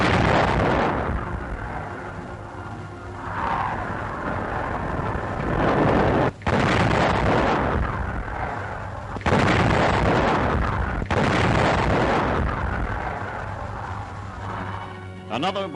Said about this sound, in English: The Nazis have no match for this thunderous weapon. It fires a 200-pound shell